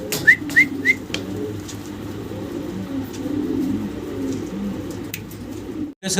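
Fancy pigeons cooing close by in a steady, low, murmuring stream, with a few brief higher chirps near the start and no talk.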